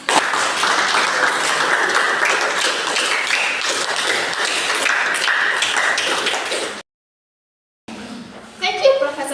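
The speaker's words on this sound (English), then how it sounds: "Please give applause." An audience applauds in a hall after a speaker at an academic speaking course event, with dense, steady clapping that stops abruptly. A few scattered claps follow after a short silence.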